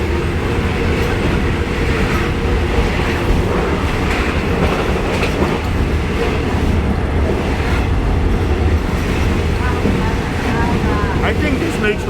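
SRT commuter train running on tracks in Bangkok, a loud continuous rumble with steady clickety-clack from the wheels heard from the back of the train, with faint speech at moments.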